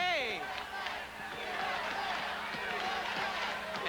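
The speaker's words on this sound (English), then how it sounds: "The crowd chants USA." A wrestling arena crowd shouts in rhythmic bursts, with repeated clustered calls rising over a roaring background of the audience. Distant and reverberant, with a commentator talking over it.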